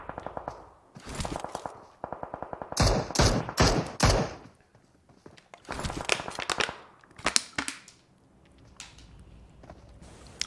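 Mini-14 rifle gunfire in PUBG Mobile, rapid bursts of controlled shots in quick clusters with pauses between, loud and close with more distant shots trailing off.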